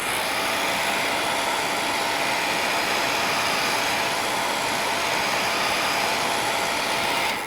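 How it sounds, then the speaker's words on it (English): A hair dryer blows steadily with a constant loud whooshing roar and a faint high whine, running without pause throughout. "So I'm just going to put this over this 3 or 4 times, my hair dryer, and just make this a bit soft."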